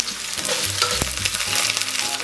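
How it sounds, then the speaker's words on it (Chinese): Garlic slices sizzle and crackle in hot oil in a wok, a steady close frying hiss with a few sharper pops and faint utensil stirring, no voices. "油热咱们给里边下点切好的蒜片"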